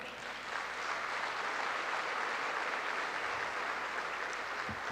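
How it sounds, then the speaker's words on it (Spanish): An audience at a customs modernization talk gives a steady round of applause for Luis Valdés, dense even clapping throughout, moderately distant and with no voices over it. "para quien pido un gran aplauso"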